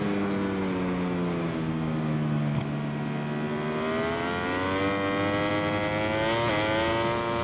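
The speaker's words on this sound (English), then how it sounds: "Maybe it's just the exhaust sound." Ducati Desmo twin engine in MotoGP 21 at the Losail circuit, a sustained buzzing exhaust drone that sweeps slowly down and back up in pitch as the bike revs, steady and unbroken, no voices.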